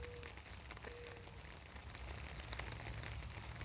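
Light rain falls steadily, a soft continuous hiss with scattered patters and a faint distant tone near the start, with no voices.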